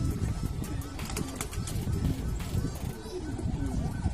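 Racing pigeons coo and flutter close by in a busy, continuous chorus, with scattered bird calls overlapping.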